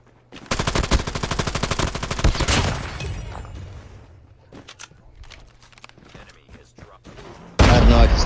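Rapid automatic gunfire from akimbo pistols in a first-person shooter video game, a dense loud burst of shots lasting a couple of seconds, then scattered quieter game sounds, with a sharp louder noise at the end.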